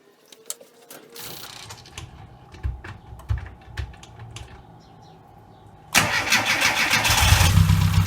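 A classic Mini engine, just fitted with an alloy radiator and topped up with coolant, turns over after a few seconds of light clicking and ticking, then catches and settles into a loud, steady close-up idle.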